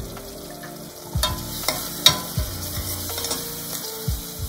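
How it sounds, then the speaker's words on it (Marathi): Tomatoes go into spices frying in a pan for a peas and potato curry, a steady sizzle with repeated scraping stirs of a spoon against the pan, close and clear, no voices. "आता त्याच्यात टोमॅटो टाकू।"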